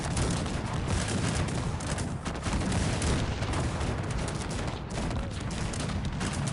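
Dense, continuous battlefield barrage of cannon and gunfire in the strategy game Cossacks 3, with overlapping booms and crackling volleys forming a steady loud roar throughout, with no clear gaps.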